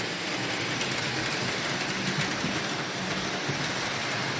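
Model train locomotive running steadily on layout track at a model train club, a continuous close rolling rumble with faint clicking throughout, no voices.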